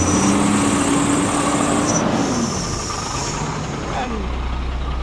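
A Shacman F2000 truck engine runs with a steady, broad rumbling roar and hiss from the exhaust, loud and close, holding constant throughout with a faint tonal whine over it.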